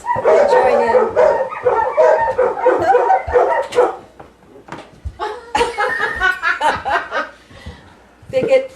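Several dogs barking and yelping in a loud, ragged chorus in response to an owl call, with people talking and chuckling over the barks throughout.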